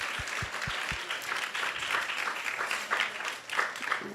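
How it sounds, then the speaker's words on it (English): Audience applause at an evening Krishna Katha gathering, a steady broad wash of many hands clapping that carries on for several seconds, with a few distinct low thumps at the very start. "let's give a big round of applause to everyone who has joined us tonight"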